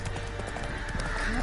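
Roach the horse galloping in The Witcher 3: Wild Hunt, quick hoof clip-clops over a rumbling game soundscape, with a brief voice alongside.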